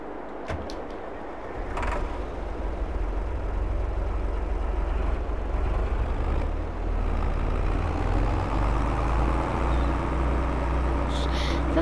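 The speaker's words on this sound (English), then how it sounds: "We're going to be taking this lovely tractor home." A tractor in the video game Farming Simulator 22 drives along, its steady low engine drone running continuously with a few short clanks early on.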